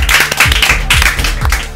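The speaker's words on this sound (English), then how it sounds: "A round of applause for yourself." Studio audience applause on a children's spelling quiz game show, a dense steady patter of many hands clapping close and loud throughout, with no talk over it.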